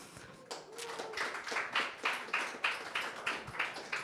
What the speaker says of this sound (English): So please, a round of applause for Diogo.